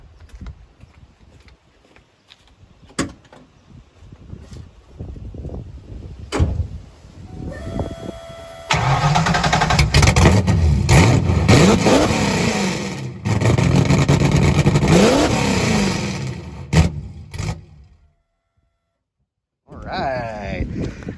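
A Ford Fox body with open headers revs in a shop: quiet handling noises first, then two loud, sustained bursts of rough engine roar that rise and fall before cutting off, with a brief restart at the end.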